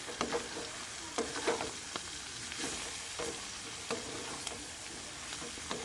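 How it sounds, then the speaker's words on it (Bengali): Potato and cauliflower curry frying in a pan with spices and salt, stirred with a spoon: a soft, steady sizzle under scattered scraping clicks of the utensil against the pan, fairly quiet and close, with no talking. "একটু ভালো করে নাড়াচাড়া করে নেব আবারও।"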